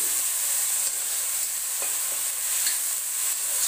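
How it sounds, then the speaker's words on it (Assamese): Steady, fairly quiet sizzling of ginger garlic paste frying in a pan, with a few soft stirring clicks scattered through. "কেঁচা গন্ধটো যোৱালৈকে ভাজিম"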